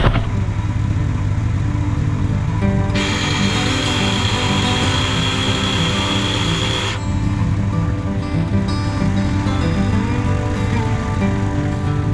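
A Polaris 570 Sportsman ATV idles with a steady, close engine drone, and a brighter hissing layer joins in for a few seconds midway.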